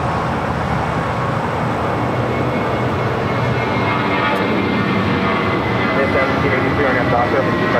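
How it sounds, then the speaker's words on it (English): A Delta Airbus A350 at LAX rumbles loudly and steadily in a broad, dense roar of jet engine noise, with a voice talking over it. "Also that Delta A350, the first of many flights heading to Atlanta"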